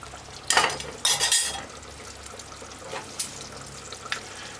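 A pot of Run Dung stew with Scotch bonnet pepper on the stove, heard as bursts of stirring and clattering against the pot over a quiet background of low bubbling.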